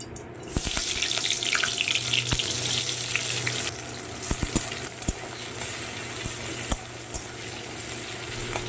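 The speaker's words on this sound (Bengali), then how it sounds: "পেঁয়াজটা বেশ ভালো করে আমি ভেজে নেব" Steady hissing sizzle of onions frying in mustard oil, with running-water-like wash at first, then quieter crackling and occasional sharp clinks of a utensil against the pan.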